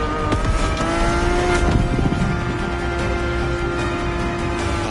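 A high-revving Ferrari engine in the video game The Crew Motorfest drones steadily with a bright, buzzing whine, heard from inside the car, holding a sustained pitch with brief shifts, loud and close, no talking.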